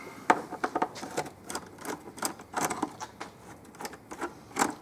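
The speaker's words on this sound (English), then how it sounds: "Next, I'm going to remove this clamp." Clamp being removed from the air box of a 2015 Ford Mustang EcoBoost, heard as a run of sharp, close metallic clicks and taps in irregular bursts, with no talking.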